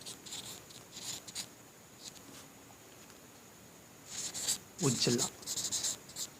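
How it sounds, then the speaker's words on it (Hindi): Chalk or marker writing on a board during a biology lesson, scratchy strokes in short bursts with a few brief spoken words from the teacher. "तो हम यहाँ लिखेंगे"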